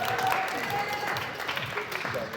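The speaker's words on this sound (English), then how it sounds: "Let's give them a round of applause, ladies and gentlemen." A crowd at a cadet talent-show audition night applauds after contestants are introduced, a sustained wash of clapping with some voices mixed in underneath.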